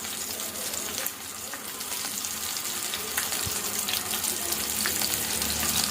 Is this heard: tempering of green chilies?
yes